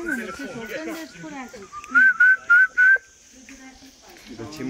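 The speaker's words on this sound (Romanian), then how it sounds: "Trebuie să fluier." A person whistles four short, bright, rising notes in quick succession, preceded and followed by casual talk from nearby voices outdoors.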